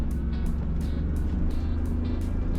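A BMW E46 car engine revs under acceleration through the gears, a loud steady drone with rhythmic pulsing close to the listener.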